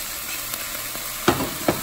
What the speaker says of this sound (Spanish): Entonces le vamos a poner el tomate al final.